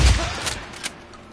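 Shotgun blasts in the video game Days Gone: a heavy close boom at the start followed by two sharper, lighter reports about a third of a second apart, then a fading tail.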